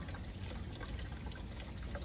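Water runs down the tube of a hydroponic tower as a steady, even rushing and splashing wash that stays constant and fairly close throughout, with no voices.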